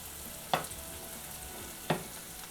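Onions, tomatoes and green peas sauté in a pan for paneer masala dosa, a soft steady sizzle broken by two sharp clinks of a spatula, close and quiet.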